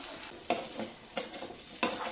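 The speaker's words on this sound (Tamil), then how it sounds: "இதை நல்லா லோ ஃப்ளேமில் அடிக்கடி கிளறி விட்டு நல்லா வறுத்து எடுத்தோம்னா சூப்பரான வாழைக்காய் வறுவல் ரெடி" Plantain slices frying over low flame in a pan, stirred with a utensil: three distinct scraping clinks against the pan at regular intervals over a steady soft sizzle, close and alone.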